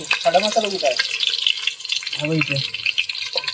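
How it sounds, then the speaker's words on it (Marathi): Onion fries in hot oil as tempering for a chicken dish, a continuous hissing sizzle with a person's voice talking over it in two short stretches. "आपण आधी फोडणी देण्यासाठी कांदा जरा भाजून घेऊया"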